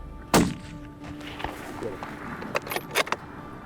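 A rifle fired at a buck during a snowy prairie hunt gives a single sharp, loud crack near the start, followed by quieter rustling, soft thumps and light metallic clicks nearby.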